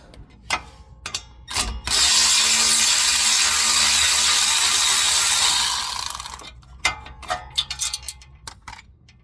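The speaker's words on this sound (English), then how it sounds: "we have a 10mm bolt, so I'll take that off to release tension on the electrical wire" A 10mm bolt is backed out on the rear brakes of a 2022 Mitsubishi Outlander. A close, loud ratchet whirs continuously for about four seconds, with scattered clicks and clanks of tools before and after.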